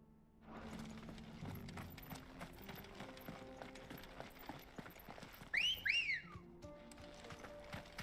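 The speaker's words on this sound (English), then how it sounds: "It sounds like a" A character in Final Fantasy XVI gives a short two-note rising-falling whistle, clear and bright, over quiet game ambience with hoof-like clopping and soft mechanical noise.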